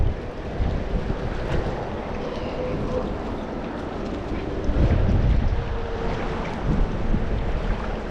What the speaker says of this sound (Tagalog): Ang piyas ng hangin.